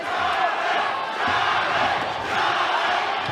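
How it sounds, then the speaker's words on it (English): A boxing crowd at the Stockton Civic Auditorium yells and chants a welterweight fighter's name in rising waves, a loud, dense mass of voices filling the hall. "We hear that Salinas crowd traveled up nicely, yelling Chavez's name"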